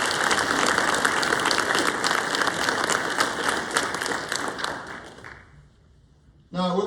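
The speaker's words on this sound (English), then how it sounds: "please join me in a round of applause" An audience at a military non-commissioned officer ceremony at Fort Novosel, Alabama, gives a full round of applause. The dense clapping lasts about five seconds, fades out, and a brief sound follows at the end.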